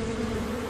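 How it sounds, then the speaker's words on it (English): Bees in flight give a close, continuous droning buzz, steady and fairly loud, with no other sounds over it. "the bees start to warm up and take to the air"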